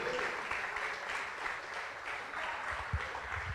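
A church congregation claps together in steady, sustained applause that fills a large room, fairly faint overall, with no voices standing out.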